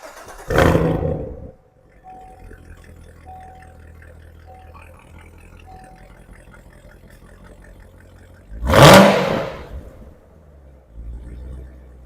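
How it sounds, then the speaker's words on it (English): A Corvette Z06 sports car engine with stock exhaust fires up with a loud roar, settles into a low idle rumble, then blips sharply again and drops back to idle. "That is stock exhaust."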